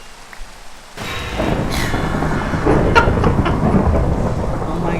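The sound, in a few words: thunder during a rainstorm in the video game Minecraft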